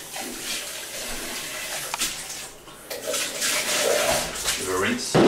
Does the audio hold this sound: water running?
yes